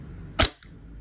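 A WE G17 Gen 5 airsoft pistol fitted with a compensator fires a single sharp, close crack followed by a brief faint mechanical echo, with no talking.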